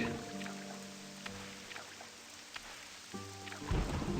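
Rain patters faintly and steadily in Morrowind's Tamriel Rebuilt while low thunder rumbles quietly. A few soft game tones rise above it, and a louder rumble swells at the very end.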